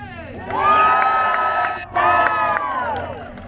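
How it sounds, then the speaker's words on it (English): Children in a crowd on the bleachers at Old Tucson Studios in Arizona shout and cheer loudly in two sustained bursts, separated by a brief dip, with scattered whoops. "you guys are going to be cheering for Kaden!"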